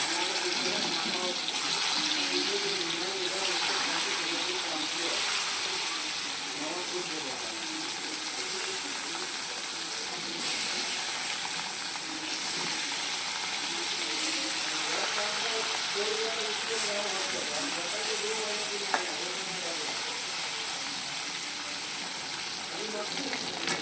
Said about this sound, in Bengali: এবার আমি মাছগুলো একটা একটা দিয়ে ভেজে নেব।